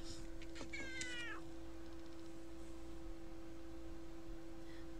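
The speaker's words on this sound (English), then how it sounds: "do you guys hear her meowing?" A single short cat meow near the start, fairly quiet over a constant electrical hum.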